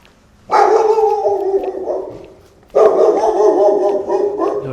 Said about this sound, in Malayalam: ഇവിടെ ഒരു ഡോഗ് ഉണ്ട്, ഏതാണെന്ന് അറിയില്ല.